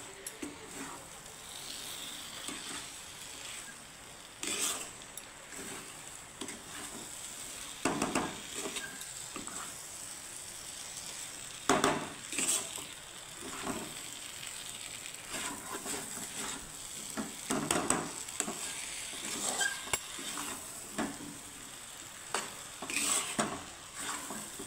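Fried okra being stirred into chana dal in a pan, with repeated scraping and clatter of a spoon against the pan over a steady faint sizzle, close and fairly loud, no talking.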